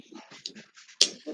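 Dogs playing loudly indoors, with yips, whines and scuffling in short bursts and one sharp high yelp near the end, fairly close.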